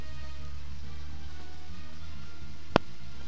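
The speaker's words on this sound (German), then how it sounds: "Auf jeden Fall wieder angenehm doller Regen." Heavy rain pours down in the video game Deadly Premonition, a steady, even hiss of rainfall that continues throughout, broken once by a single sharp click near the end.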